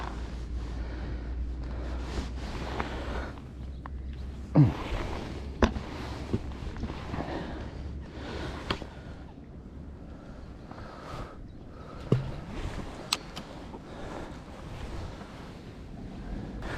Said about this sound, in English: This wind's been blowing down into this corner all day